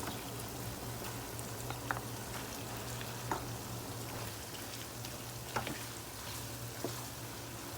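Ground beef frying in a pan for picadillo, a steady crackling sizzle that runs evenly throughout, with a few sharper pops standing out now and then.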